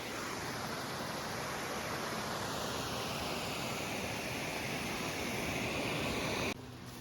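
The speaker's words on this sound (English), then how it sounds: "So you've got the little rock step that the water flows over. So it's kind of like an artificial waterfall." A creek in a shady San Diego canyon pours over a small rock step that forms an artificial waterfall. The rushing water is close and steady, with no voices, and its tone shifts abruptly near the end.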